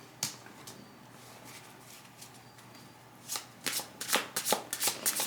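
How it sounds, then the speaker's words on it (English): Tarot cards are shuffled close up, with faint scattered riffles at first, then a quick run of crisp, rapid flicks that grows louder toward the end. "I'm sitting here getting frustrated that I'm shuffling too much"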